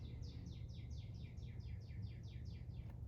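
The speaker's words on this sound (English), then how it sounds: "The birds are going off." Birds chirp in a rapid, regular series of about a dozen bright, falling tweets over faint low background rumble, moderately distant and without talk.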